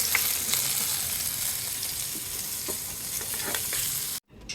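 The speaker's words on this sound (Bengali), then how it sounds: "নামাইয়া বেগুনগুলো ভাজবো।" Eggplant slices frying in a pan make a steady crackling sizzle with scattered pops and light spatula scrapes, close by, before a sudden brief cut to near silence at the end.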